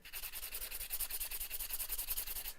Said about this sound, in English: I'm going to grab my other bow sander, which is right here.